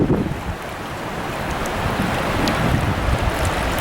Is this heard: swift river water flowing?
yes